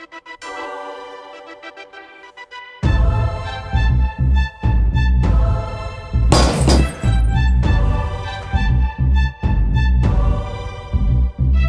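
A 24 kg kettlebell dropped from a fifth floor smashes onto bulletproof glass, a loud crash followed by a series of heavy impact bursts after a quiet stretch.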